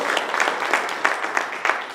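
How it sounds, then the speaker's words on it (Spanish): Church congregation clapping in a quick, regular rhythm, each clap sharp and fairly close, with no voices. "Denle un aplauso al Señor si quiere hacerlo, si cree esto."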